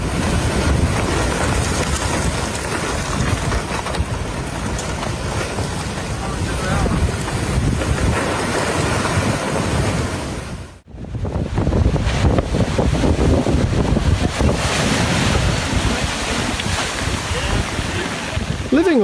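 Monster storm waves crash against the seafront at Saint-Malo, a loud, roaring surge buffeted by wind noise, with a brief drop before the pounding returns just as heavily.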